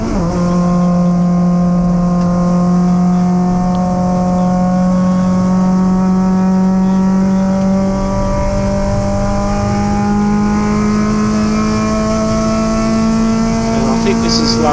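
MG race cars circling a track in an invited race, a loud sustained engine drone with rising and falling pitch as several cars pass close, steady and dense throughout with a commentator talking over it.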